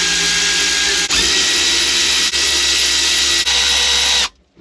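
Power tool with a 5mm socket loosening supercharger pulley bolts on a Kawasaki Ultra 310 jet ski, a loud close continuous whir in four back-to-back bursts separated by brief dips, then stopping.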